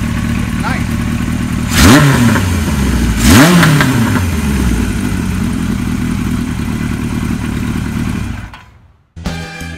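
A vintage 1975 Kawasaki Z1900 racing motorcycle engine runs loud and close, revving sharply twice with rising and falling sweeps over a steady rumbling idle before cutting out near the end.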